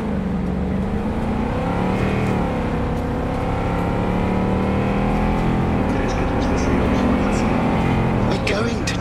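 Motorcycle riding in the video game Cyberpunk 2077, a loud continuous engine drone with shifting pitch as it revs and cruises, close, while voices talk over it.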